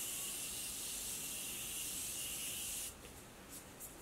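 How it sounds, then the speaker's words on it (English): A Morphe makeup setting spray gives a steady, loud hissing mist for about three seconds, then cuts off, leaving a few faint brief spritz traces. "now that that is all on, I'm gonna take my Morphe setting spray"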